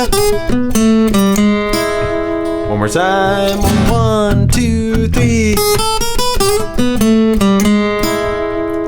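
An electric blues guitar lick in the C position of the CAGED system runs through chromatic passing notes and a quick arpeggio figure, a continuous loud phrase of bright picked notes, with a man counting aloud at the start.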